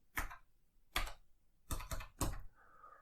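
Four short bursts of keypresses typed into PowerShell on an old 68K Macintosh, spaced about half a second apart and fairly close, with a faint electronic tone lingering at the end.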